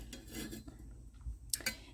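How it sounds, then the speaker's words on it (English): A spoon slowly stirring honey into apple cider vinegar in a pot, soft scraping and clinks of metal against the pan, with a couple of sharper taps near the end, close and quiet. "I'm just going to stir it slowly"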